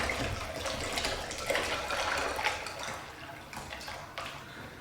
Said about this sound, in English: We're going to go ahead and add some ice water to it to cool it down.